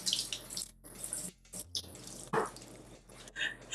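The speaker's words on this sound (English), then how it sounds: "Let's rinse these." Tap water runs and splashes in a sink as shishito peppers are rinsed, with gurgles and intermittent bursts of spray heard up close.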